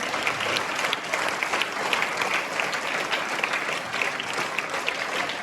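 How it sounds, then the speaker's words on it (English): Sustained, steady applause from a crowd at an Independence Day celebration, dense clapping that holds at an even level throughout without pause. "A big round of applause for everyone"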